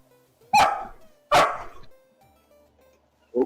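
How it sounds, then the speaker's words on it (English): A dog barks indoors in a building, giving two loud sharp barks about a second apart and then a shorter third one, with quiet pauses between. "Oh, we have a dog in the building."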